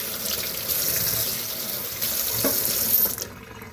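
Water running from a tap into a sink, a steady close gushing stream that continues throughout, stopping abruptly just before the end.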